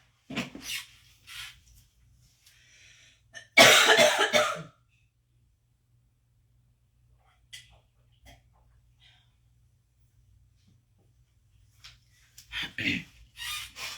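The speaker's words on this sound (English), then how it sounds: "I cannot start a coughing fit right now, for real" Close, harsh coughing: one loud, sustained burst of coughs, then quiet breathing and small throat noises before a few more coughs near the end.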